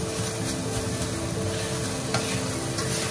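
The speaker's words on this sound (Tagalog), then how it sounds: "Stir it and fry it. Stir and fry." Pancit canton noodles with onion and garlic are stir-fried in a pan, giving a loud continuous sizzle and a hiss of stirring and scraping close by, with no one talking.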